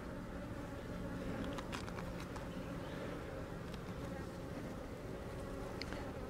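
Honey bees buzz in a dense, steady hum throughout a hive inspection, with a few faint clicks and taps of frames against the constant drone.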